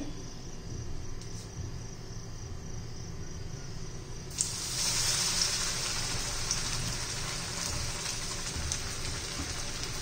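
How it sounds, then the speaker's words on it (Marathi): Egg lollipops coated in semolina dropped into hot oil, a soft steady hiss that suddenly swells into a louder, bright sizzling crackle as they hit the oil, with no talking. "आता मी तेलामध्ये सोडून घेते"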